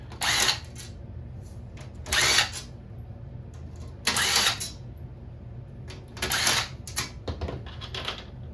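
Screws being taken out of arcade machine parts during a restoration, four loud bursts of a power screwdriver spaced about two seconds apart, with small clicks and handling noises between.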